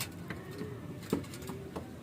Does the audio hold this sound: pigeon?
yes